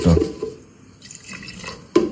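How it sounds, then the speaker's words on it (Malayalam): Water is poured into a pot of goat leg trotters for mutton paya, a brief splash at the start, a quiet lull, then another sharp splash at the end. "നമുക്ക് ആവശ്യമായിട്ടുള്ള വെള്ളം ഒഴിച്ചു കൊടുക്കാം"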